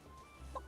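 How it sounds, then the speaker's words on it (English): Chicken clucking in the video game Infinity Nikki, a short run of clucks rising near the end of a quiet moment, with no talk. "Source of the clucking."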